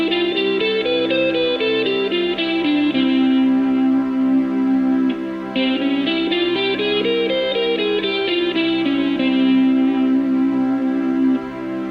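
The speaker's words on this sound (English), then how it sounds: "Let's take a moment to hear the difference between Phrygian and the major scale" A melodic line, likely guitar with effects, runs up and down one scale and then a second contrasting scale, each ending on a long held note, with echo and reverb giving a sustained, distorted lead tone throughout.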